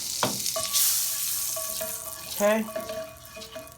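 Egg dropped into a hot skillet while making a breakfast sandwich, a close sizzle and frying hiss with some clatter, and a voice briefly speaking over it.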